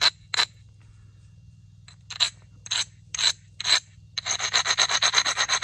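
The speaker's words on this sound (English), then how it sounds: "That's the whole reason I'm using that little abrading stone." An abrading stone scrapes along the edge of a knapped agatized coral knife in short separate rasping strokes, then a fast run of rapid rubbing strokes, close and crisp against a quiet background.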